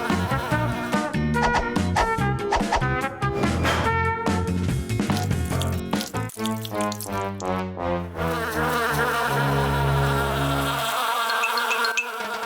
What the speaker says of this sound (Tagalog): Ay nako, mga bubuyog.